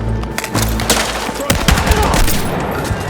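Shotgun gunfire in a single-player video game campaign, a rapid cluster of loud booming blasts and impacts over a dense, busy game soundscape.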